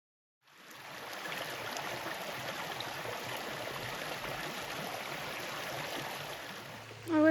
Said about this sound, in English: So the trail follows this stream for quite a while